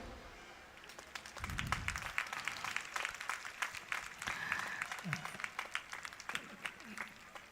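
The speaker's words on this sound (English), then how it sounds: "can we have a round of applause for that marvelous drill display?" Audience applause at the Visakha Vidyalaya annual school sports meet after a drill display, a scattered outdoor crowd clapping with uneven, sparse claps that build and hold at moderate loudness with faint background voices.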